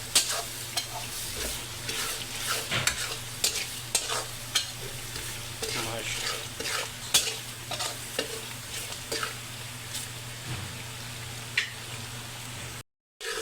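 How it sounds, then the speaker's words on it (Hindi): Spices and tomatoes frying in a pan for a chana dal and spinach dish, with a continuous sizzle under repeated scraping stirs and occasional clicks of the spoon, ending in a brief silence. "मसाले डाल के इसको 10 से 20 मिनट अच्छी तरीके से भूनते हैं"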